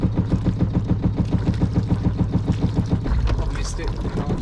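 Sailboat engine motoring along the Portuguese coast, a close, steady pulsing thrum with a regular beat. A voice speaks briefly over the engine.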